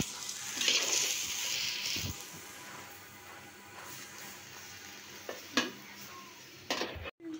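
Chana dal curry with potatoes and eggs stirred in a pan, giving soft scraping and clinks of a spoon against metal with a light sizzle, mostly quiet with a few sharper knocks near the end.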